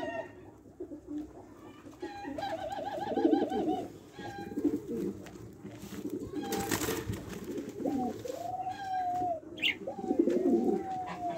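Doves cooing inside a cage while a mating pair settles in, the soft repeated coos and bird calls carrying close and steady for several seconds with light rustling and other chirps in between.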